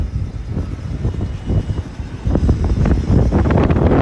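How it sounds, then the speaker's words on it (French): Strong wind buffets the microphone on a roadside outing, a steady loud rush with gusty swells that grow heavier in the second half. "Oulala, le vent se régale, hein?"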